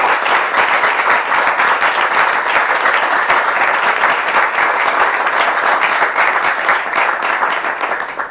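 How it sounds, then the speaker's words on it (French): An audience at an evening church gathering breaks into dense, sustained applause that stays loud and steady throughout before easing slightly at the end. "On peut applaudir toutes ces interventions."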